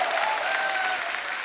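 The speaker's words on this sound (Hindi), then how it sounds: "आपकी ये तालियां" Audience at a film-industry talk show applauding, a dense continuous wash of clapping throughout, with no voices standing out.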